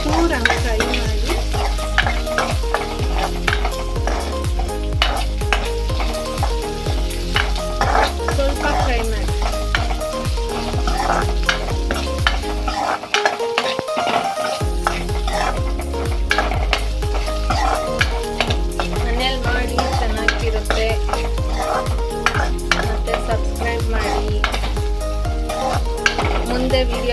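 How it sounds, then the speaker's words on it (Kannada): Onions fry and sizzle in a pan while a utensil stirs and scrapes repeatedly, a busy clatter of metal over a constant hiss, loud and close, with a brief lull midway. "ಈರುಳ್ಳಿ ಹಾಕಿ ಚೂರಂಗೆ ಫ್ರೈ ಮಾಡಿ"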